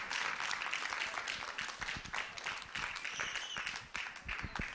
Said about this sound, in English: Let's continue to clap while she's going